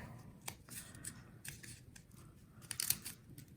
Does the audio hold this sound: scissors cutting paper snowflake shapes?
yes